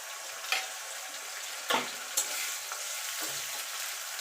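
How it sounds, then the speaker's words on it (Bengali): Chopped onion frying in a pan with ginger-garlic-chili paste, for a Bengali jackfruit (echor) curry: a steady hiss of sizzling oil with a few sharp scrapes of a stirring spoon, close and moderately loud, no talking. "এবার পেঁয়াজটাকে একটুখানি ভাজা ভাজা করে নেব।"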